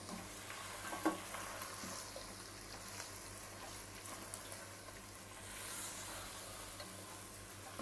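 Finely chopped large tomatoes are tipped into a pot of frying mutton pulao, giving a steady close sizzle and stirring scrape with a few brief clatters, and no voices.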